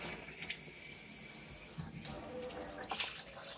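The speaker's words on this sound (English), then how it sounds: "And all you do is you get a big cup, fill it full of water." Tap water runs into a big cup at a kitchen sink as squash soup is prepared, a steady, moderately quiet pour with a couple of light clinks and no talking.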